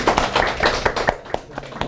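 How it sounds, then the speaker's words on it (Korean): Encouraging applause from a church congregation, a short burst of dense, irregular clapping that thins out into a few scattered claps near the end. "박수를 한번 격려의 박수를"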